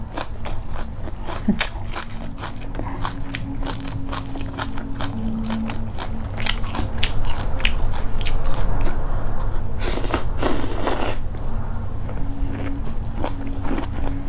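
Close-up crunchy biting and wet chewing of spicy bamboo shoot salad with cooked shrimp, a continuous stream of crackling mouth noises that grows slightly louder midway, with a sharper burst near the end.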